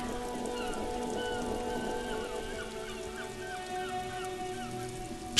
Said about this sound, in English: Sheets of rain over the water